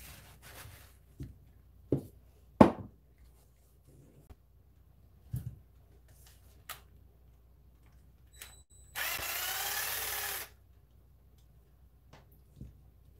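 A power tool drives screws back into a Kraton EXB RC car, giving a single steady whirring burst of about a second and a half. Scattered clicks and knocks of handling parts come before and after it, in a quiet room.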